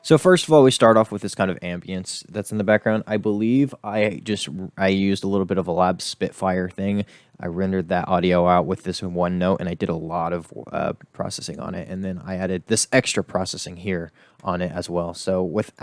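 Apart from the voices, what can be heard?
No distinct noise like a dog, phone or traffic.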